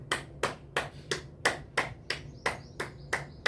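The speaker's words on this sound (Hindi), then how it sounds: "जो थर्ड जेंडर होते हैं वो लोग बजाते हैं वैसी ही ताली" Eleven sharp open-palm hand claps done as an acupressure exercise, struck in a steady rhythm about three per second, close and fairly quiet with no talking.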